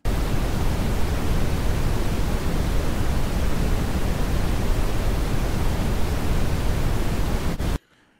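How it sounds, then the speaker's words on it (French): Broadband white noise test signal played steadily at a constant level through a home-studio setup, loud and unbroken for about seven and a half seconds before cutting off abruptly into silence. "un bruit blanc"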